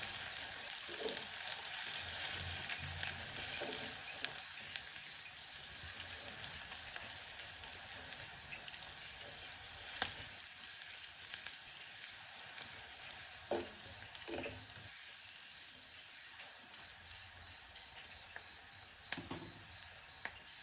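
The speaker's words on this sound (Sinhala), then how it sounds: "ලුණු ටික රන්වන් පාට වෙනකම් බැද ගන්න." Onions frying in a pan until golden for a cassava leaf sambol: a faint, steady sizzling hiss with occasional soft pops and crackles, continuing alone without any talking.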